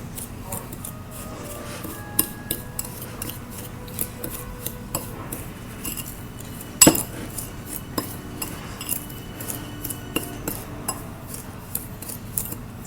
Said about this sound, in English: make sure you like push your fork around to get all of the lemon zest broken up